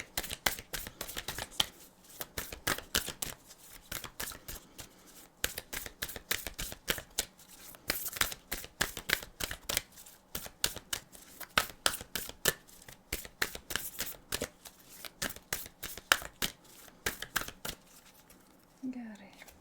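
Tarot cards are shuffled continuously, a rapid stream of crisp riffling and slapping that runs nearly the whole time, close and fairly loud, with soft speech under it in places.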